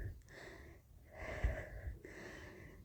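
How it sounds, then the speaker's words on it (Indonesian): A girl pants out of breath as an audio-story sound effect, soft repeated rasping inhales and exhales in a steady rhythm, faint and close, with no talking. "Kata Atika terengah-engah."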